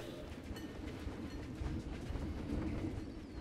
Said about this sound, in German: Thomas the Train.